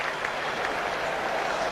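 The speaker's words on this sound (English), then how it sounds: "Punched away nicely for 4, and I can hear a ripple of applause there." A cricket stadium crowd applauds a boundary struck for four in a Pakistan versus India match, a dense, continuous ripple of clapping heard from a distance, with no voices over it.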